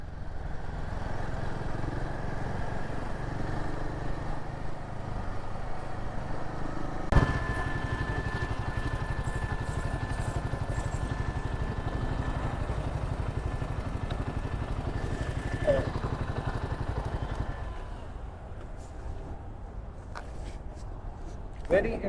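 A Royal Enfield motorcycle (Himalayan 450 or Shotgun 650) runs steadily on a test ride, a continuous engine drone with wind rush, while a rider talks over it throughout.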